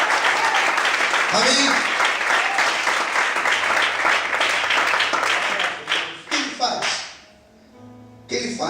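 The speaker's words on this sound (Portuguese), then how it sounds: "Mais forte as palmas." A church congregation claps loudly and steadily for several seconds, then the applause thins into scattered claps as a voice speaks over the end.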